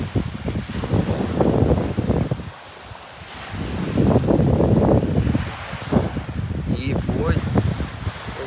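Strong wind buffets the microphone in roaring gusts, with a brief lull midway, over a background of surf by the sea on Koh Samui, Thailand.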